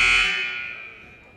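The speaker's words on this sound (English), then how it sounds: "About 7 seconds away from the buzzer here." A basketball arena buzzer ending halftime of a high school game, one loud, harsh electronic tone that starts at full strength and fades away over about a second, heard alone.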